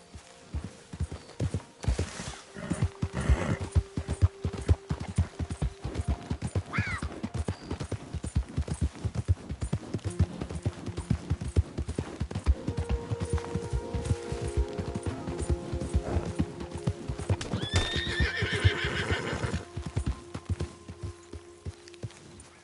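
A horse walks with a steady, close clip-clop of hooves throughout, letting out a short whinny partway through, with brief voices of a rider urging it on.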